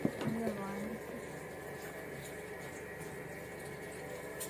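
Liquid pours into a homemade play dough mixture in a home kitchen, a faint, steady trickling and bubbling with a brief louder splash at the start, under low background hum.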